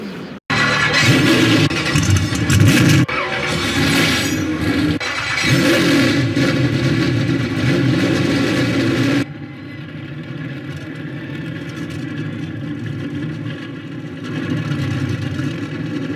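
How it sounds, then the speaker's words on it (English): Race car engines in a NASCAR video game at Rockingham start and rev together as a loud, dense roar, then drop to a lower steady rumble about nine seconds in, with no talking. "Gentlemen, start your engines."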